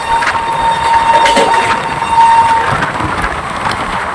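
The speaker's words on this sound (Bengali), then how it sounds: "গতি তুলে এগিয়ে চলেছে আমাদের ট্রেন" Ganadevta Express rolling along the rail line as it gathers speed, a steady broadband rumble of wheels and carriages with a faint sustained tone running through it, close and continuous with no talk.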